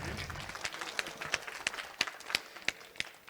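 A crowd at a stage event in a temple courtyard claps loudly in unison, with sharp, evenly spaced beats about three per second over a low murmur of voices.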